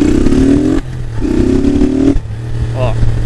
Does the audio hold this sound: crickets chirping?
no